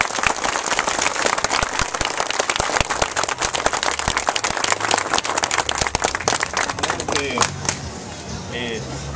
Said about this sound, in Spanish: Vamos a ver, el aplauso para ustedes.